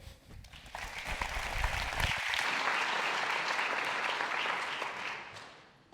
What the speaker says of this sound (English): With a big applause, and enjoy the next 30 minutes with Christian here on stage